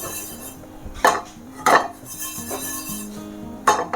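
A metal utensil clinks and scrapes against a pan in a few sharp, separate bursts while sesame seeds are dry-roasted, with a soft rustle of stirring between them.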